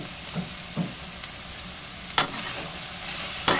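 Mixed vegetables with pork cubes stir and sauté in a pan, a steady close sizzle broken by a few scraping stirs of the utensil, with no talking.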